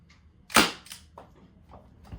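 A Rekt CO2 Nerf revolver fires a dart with one sharp, loud pop, followed by a few faint clicks and light knocks in an otherwise quiet room.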